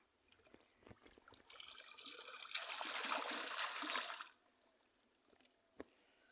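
Water sloshes and splashes in a village pond as someone bathes and dips, a quiet swirl swelling for a couple of seconds in the middle before fading, with a few small drips and knocks around it.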